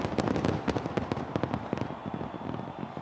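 Fireworks over New York City on New Year's Eve, a rapid barrage of sharp bangs and crackles at a distance, bursting in an irregular, dense rhythm with no talk.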